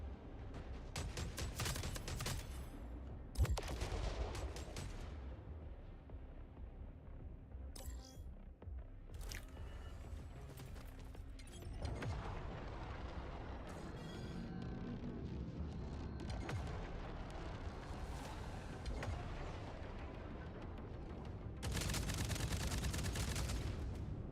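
Spaceship guns fire in the video game Jump Space, with bursts of loud, crunchy shots at the start and again near the end, and quieter rumbling stretches of game noise between them.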